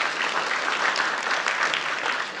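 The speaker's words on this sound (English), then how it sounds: "So let's give a round of applause for our wonderful speakers." Audience at a brain health talk on vagus nerve stimulation applauds the speakers, a steady, moderately loud wash of many hands clapping with no one talking over it.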